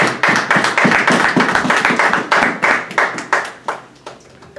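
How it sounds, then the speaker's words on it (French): Congregation clapping in acclamation at a church service, loud rhythmic hand claps in a steady beat that gradually thin out and fade toward the end. "Une minute d'acclamation."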